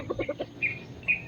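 A few short, throaty clucks followed by two higher, drawn-out calls, close by and fairly quiet, like a hen fussing.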